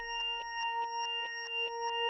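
A microKorg S synthesizer plays a sustained tone reversed and dry with no effects, pulsing in about ten swelling beats over two seconds, steady and clear with no voice.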